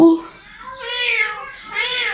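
A bird imitates a cat's meow, producing two drawn-out meow-like calls, loud and close, after a short opening note.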